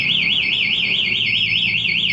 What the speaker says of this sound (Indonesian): Nah, remote getar sama bunyi.